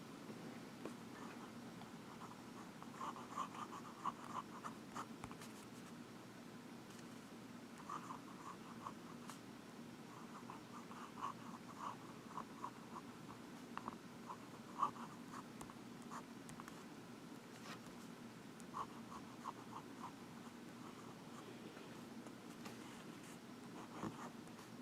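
Steady, faint scratching of a vintage Omas Milord fountain pen with a medium nib writing ink on paper, with soft strokes and small ticks repeating for a long stretch, heard alone.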